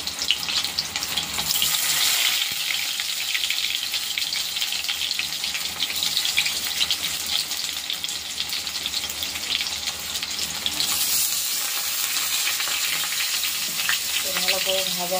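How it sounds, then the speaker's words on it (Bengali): Stuffed kakrol (spiny gourd) frying in a pan, giving a steady, loud, close sizzle that runs throughout with slight swells and a short tonal clink near the end. "ভালো করে ভাজা হয়ে গেলে নামিয়ে দেবো"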